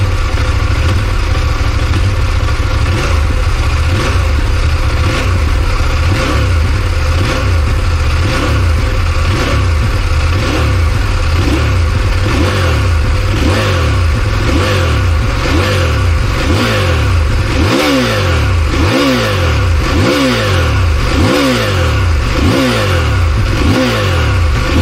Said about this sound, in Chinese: 然后我们稍微给点油，